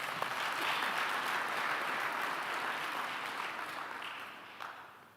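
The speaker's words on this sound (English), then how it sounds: "I think it is proper that we give Professor Mbata another round of applause." Another round of applause for a professor at a university graduation ceremony: steady hall-wide clapping, moderately distant, fading gradually toward the end.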